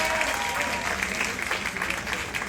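A cruise ship show audience claps and cheers together, a dense, loud wall of hands and crowd noise that carries steadily from start to finish, with no clear speech rising above it.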